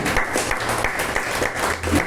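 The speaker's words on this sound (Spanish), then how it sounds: "Denle un fuerte aplauso al Señor" A church congregation gives a loud round of applause to the Lord during a sermon, with fairly dense clapping that rises and dips in short surges, alongside some low background tones.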